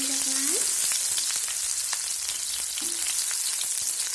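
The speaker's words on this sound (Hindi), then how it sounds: "अब इसमें बारीक कटी हुई प्याज डालेंगे। इसको अच्छे से भूनेंगे।" Finely chopped onion fries in a pan over a low flame, a loud dense sizzle that fills the whole stretch with crackles and a few scraping stirs, close up and with no talk.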